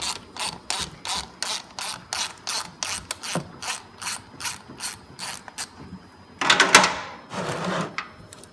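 A ratchet on a 5/8 socket loosens the drain plug of a Harley-Davidson Dyna Low Rider S during a 1000K service, giving a quick, evenly spaced string of close clicks followed by a short scraping rattle.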